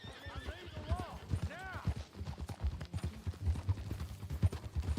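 Video game horse gallops along with steady clip-clopping hooves and a loud whinny near the start, accompanied by rhythmic game noise and occasional talk.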